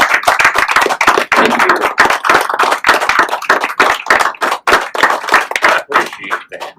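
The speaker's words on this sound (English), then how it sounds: "Beginning with a round of applause." A small gathering at a Masonic lodge's 125th anniversary festive board claps in loud, close, sharp rhythmic bursts, separate hand strikes clearly audible, with brief gaps between volleys.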